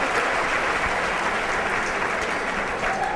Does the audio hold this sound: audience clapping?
yes